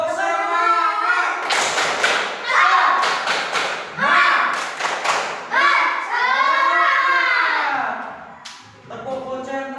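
A third-grade class chanting the tepuk semangat routine, children's voices rising and falling between sharp clusters of rhythmic hand claps and thuds, loud and close in a classroom.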